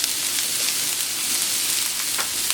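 A garlic, parsley and chive persillade sizzles on a hot plancha with steady, close, hissing crackle and occasional small pops and stirring scrapes, with no talk.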